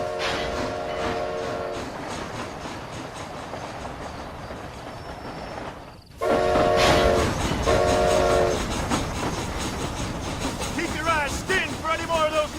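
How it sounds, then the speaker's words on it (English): A train rolls along with a steady rumble and clickety-clack in the game Red Dead Redemption: Undead Nightmare, and its horn sounds in repeated blasts. The noise is loud and continuous, with a brief drop midway. "This train headed for Mexico?"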